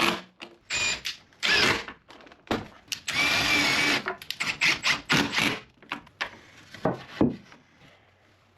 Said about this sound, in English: then assembled and bolted each joint of the bed frame